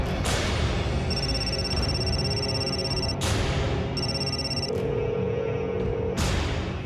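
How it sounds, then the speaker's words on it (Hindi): A telephone rings in repeated electronic bursts, loud and close, with short pauses between rings and steady background noise throughout. "फोन क्यों नहीं उठा रहे"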